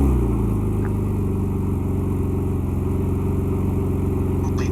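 A car engine fitted with modified exhaust, from a small classic car show, runs with a steady, throbbing idle close by, a loud continuous rumble with no speech over it.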